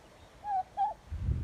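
Brahma chickens in a wet, muddy smallholding yard give two short honking calls close together, fairly faint, followed by a low rumble of background noise.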